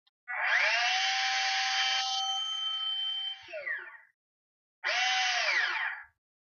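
A LéPresso cordless coffee grinder's electric motor whirs loudly and steadily for several seconds, winds down with a brief reversing whine, then runs again in a short second burst.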